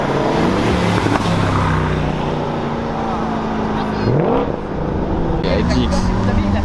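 An Aston Martin drives past at a car event, its engine note rising and falling as it goes by amid other engine noise, with voices talking throughout.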